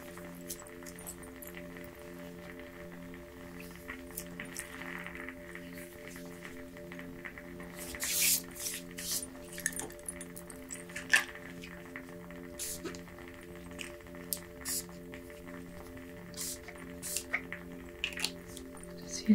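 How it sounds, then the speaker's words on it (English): Several brief hissing bursts from a spray bottle, spaced irregularly during a soft-spoken ASMR reiki session, faint over a steady low musical drone. "Just using that spray"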